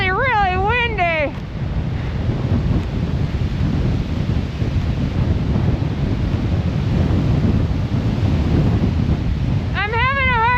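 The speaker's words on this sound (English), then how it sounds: "it's really, really windy." Strong winter wind on the Loch Vale Trail in Rocky Mountain National Park roars and buffets the microphone in a constant heavy rush, with a voice talking briefly at the start and end.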